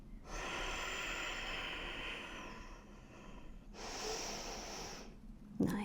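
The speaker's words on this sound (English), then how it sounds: "Big deep breath." A long, slow deep breath taken during a yoga stretch, a soft airy inhale followed by a second breathy swell, close and quiet, ending with a brief bump.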